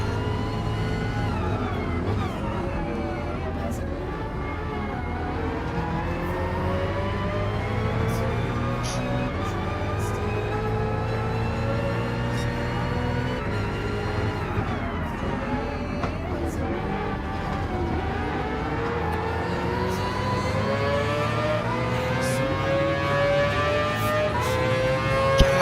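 A race car engine in the Gran Turismo video game drones loudly and continuously through an endurance race, its pitch sweeping up through gear shifts and dropping off, then climbing again, with no talking over it.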